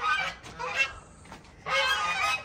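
Geese on a small farm honk loudly in two bursts, a dense cluster of harsh calls at the start and another at the end, with a quieter gap of scattered honks between, close to the listener.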